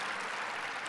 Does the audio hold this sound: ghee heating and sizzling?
no